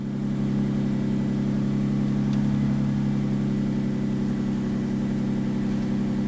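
Dodge Stratus engine idling steadily just after starting, a constant low hum and drone with a faint exhaust-leak tick, close and even throughout with no talking.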